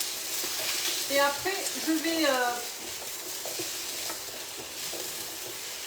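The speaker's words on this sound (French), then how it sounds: "Donc on fait revenir tout ça, voilà, tranquillement." Butternut squash sautéing gently over moderate heat in a pan while being stirred, a soft steady sizzle with scraping stirs, and someone speaking briefly over it near the start.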